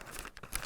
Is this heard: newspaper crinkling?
yes